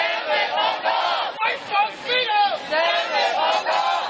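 A protest crowd in a Hong Kong street chants slogans in loud, rhythmic bursts of many voices, rising and falling in repeated phrases close by.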